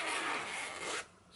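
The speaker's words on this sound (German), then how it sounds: "Hat einen Reißverschluss, der einmal so komplett nach unten geht, den man schön aufmachen kann." The zipper on a handmade jacket is pulled open in one quick, faint rasping run that lasts about a second and then stops, with no voices.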